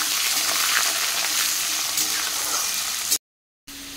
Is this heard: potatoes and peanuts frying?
yes